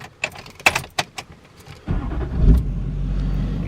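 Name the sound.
Chevrolet Silverado truck engine starting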